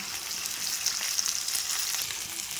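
Okra frying in oil with garlic, mustard seeds and curry leaves as it is stirred, a dense, steady close sizzle with faint crackles and no talk.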